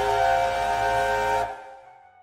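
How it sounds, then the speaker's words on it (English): Steam locomotive whistle with the five-chime tone of Union Pacific 4466, one loud, steady sustained blast held for about a second and a half before cutting off and ringing away. "In the show, he's got a 5-chime whistle from Union Pacific 4466."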